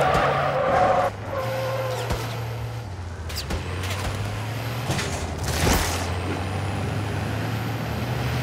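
A vehicle drives in the video game MW3 Zombies: a steady engine drone with shifting pitch, brief skids and hissing bursts, loud and close throughout.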